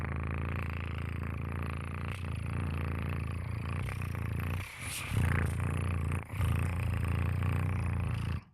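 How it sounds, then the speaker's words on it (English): A cat purrs steadily and close by, a continuous low rumbling that runs for several seconds with brief breaks and quiet shifts in intensity. "Spinny is in a purr"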